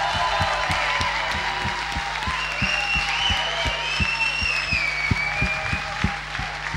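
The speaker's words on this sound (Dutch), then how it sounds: "Een groot applaus voor Famke Raug!" A crowd gives sustained, dense applause for the winner of a local 2009 talent show, with a steady low thumping beat beneath and high cheers or whistles drifting over the clapping.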